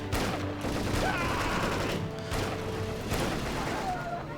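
Massed machine gun fire in the 2004 strategy game Axis & Allies during the Battle of Guadalcanal, a dense, continuous rattle of distant overlapping bursts with occasional thuds.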